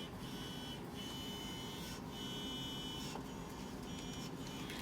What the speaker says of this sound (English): As you can hear, the machine is warming up.